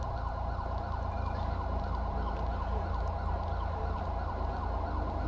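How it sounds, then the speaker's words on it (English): Emergency vehicle sirens wail in a Los Santos game, a continuous rising and falling tone under a dense low traffic rumble, moderately loud throughout. "I don't know what the lights and sirens are that I can hear."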